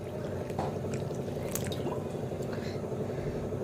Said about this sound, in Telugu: ఇప్పుడు వాటర్ పోసుకొని కొన్నిగా వాటర్ పోసుకొని కలుపుకుందాము